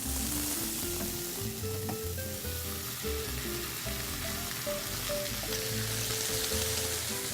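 Tomato sauce sizzles in a hot pan on the stove, a loud, steady, close crackle that never lets up, with a soft musical melody running underneath.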